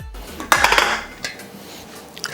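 A lid set down on an electric skillet holding steaming fish gives a sharp metallic clatter with a few quick rattles, then quieter clinks of cookware close by, with no talking.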